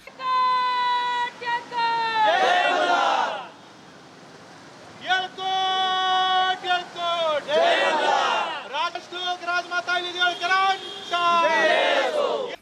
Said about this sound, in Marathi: यावेळी जोरदार घोषणाबाजी करण्यात आली